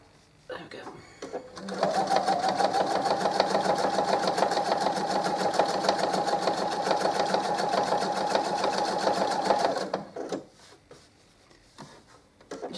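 A sewing machine stitching a simple fabric coaster runs in one steady, rapid whirring burst of about eight seconds, close and loud, with handling clicks before and after and a voice speaking over it.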